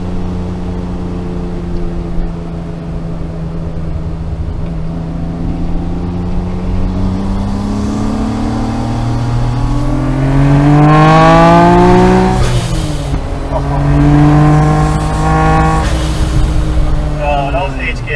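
A Nissan Skyline R34 GTR with an HKS exhaust, a Millennium Jade M-Spec Nür: loud engine revving, with pitch climbing through several sweeps and then dropping between rises, up close, over a low background drone.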